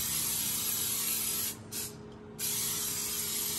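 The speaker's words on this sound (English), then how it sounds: "you just spray your pan with this" Baking release spray with flour hissing from a can onto a cake pan, one long continuous spray with a brief pause partway, close and fairly loud.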